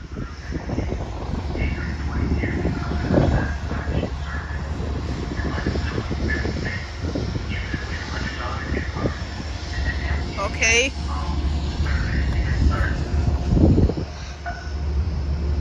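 Train arriving at Croton Harmon station in New York, a steady rumble and rolling rail noise throughout with a brief high squeal midway, while people talk over it.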